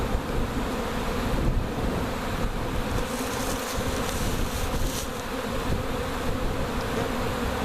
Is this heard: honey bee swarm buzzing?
yes